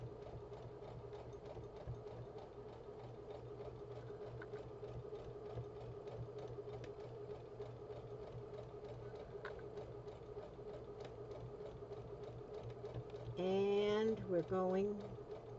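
A sewing machine runs continuously, top stitching along the edge of a Halloween-themed scrub cap with a steady mechanical hum and rapid needle clatter throughout, while someone talks briefly near the end.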